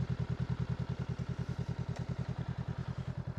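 A Honda Rebel motorcycle idles close by with a steady, rapid thumping pulse, and a single faint click comes as it is shifted into neutral gear.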